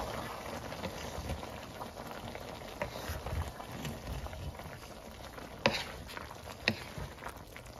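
Green beans simmering in coconut milk with shrimp paste get stirred, giving a soft continuous bubbling sizzle with a few sharp spoon clinks against the pot near the end, fairly quiet and without talk.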